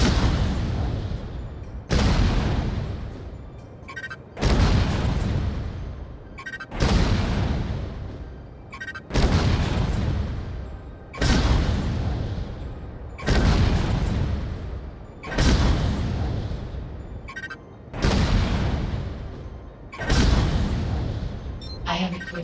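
A mech's large cannon in the VR game Vox Machinae fires at training targets, nine heavy booming shots at a steady pace of roughly one every two and a half seconds, each with a long rumbling decay.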